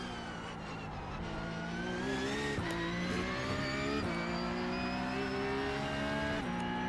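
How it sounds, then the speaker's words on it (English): A Porsche Cup race car in the iRacing sim holds a high, buzzing engine note that steps up through gear shifts, loud and continuous with no talking. "Nathan, this is Porsche Cup. Porsche Cup car"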